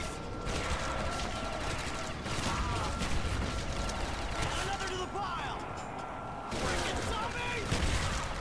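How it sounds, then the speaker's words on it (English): Game combat from Call of Duty Zombies, Nacht Reimagined: a dense wash of gunfire, mechanical clatter and grenade blasts runs continuously at steady loudness, with game effects layered over it. "I'll throw some backup grenades."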